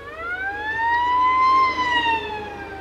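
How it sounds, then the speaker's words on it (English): An emergency vehicle siren wails steadily, its pitch rising and then falling as it passes by at moderate distance, loud and clear with no talking over it. "Another fucking emergency vehicle."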